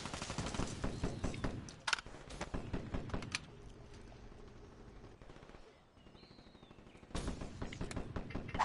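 Rapid automatic gunfire in a first-person shooter video game, several dense bursts separated by a quieter stretch, with a faint voice in the background.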